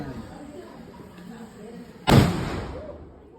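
A firecracker bursts with a single sharp, loud bang at a family Tulasi puja, echoing and fading over a couple of seconds after quieter background noise.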